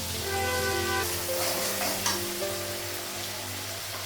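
Fish crackles and sizzles in hot oil, a steady close frying hiss with a few faint clinks and soft tonal sounds in the background.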